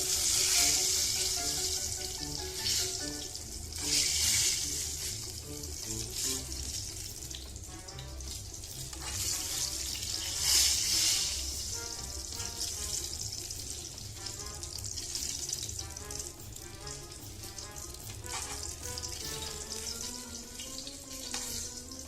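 Eggplant coated in egg fries in a pan with a loud, continuous sizzle that swells and eases in waves, and no talking.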